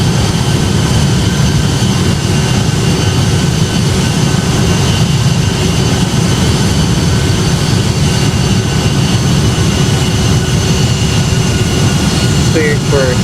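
Boeing 757 jet engines roaring during the takeoff climb in the flight game Project Flight, a loud, constant, dense drone holding steady throughout.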